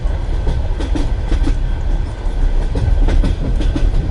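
Wheels of a Russian Railways passenger carriage clack over rail joints in a repeating rhythmic pattern, heard from inside the moving car over a continuous rumbling roar, with no talking.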